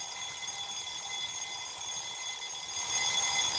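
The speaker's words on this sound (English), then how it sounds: "This is what Kat found as an alarm tone on YouTube" An alarm-clock ringtone of steady, high-pitched electronic beeping tones plays continuously, growing slightly louder toward the end, with no voices.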